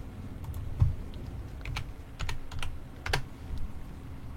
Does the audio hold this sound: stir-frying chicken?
no